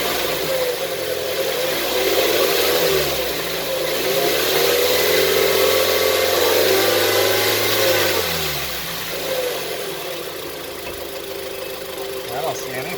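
A 2016 Mazda CX-5 engine revs up and settles back, steady mid-pitched running with rises in pitch, heard up close after an oil pressure sensor oil leak repair, with voices talking over it.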